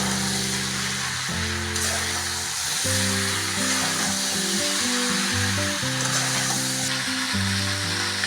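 Potatoes frying with spices in a pan, giving a steady close sizzle with the scrape and clatter of stirring throughout, and no talking.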